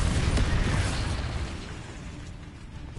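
A Bombarda spell blast from the video game Hogwarts Legacy, one loud, close, broadband burst at the start that fades into a rumbling, clattering tail over a few seconds.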